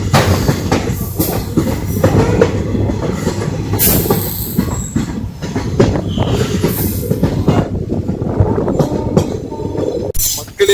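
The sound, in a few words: train wheels clattering on rails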